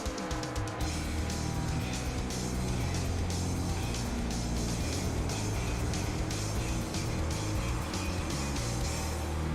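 Race cars in the iRacing video game at Bristol roar steadily in a continuous engine drone, a dense pack of motors humming and whining together with no talk.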